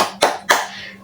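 A teacher claps out a rhythmic classroom routine for a fourth-grade lesson: two crisp, close hand claps a quarter second apart, then the start of a third, in a quiet room.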